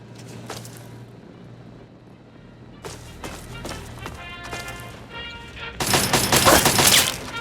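Robots opening fire in Fallout 3, with sharp rapid gunshots in short bursts, then a denser, louder stretch of firing near the end, over a low background hum.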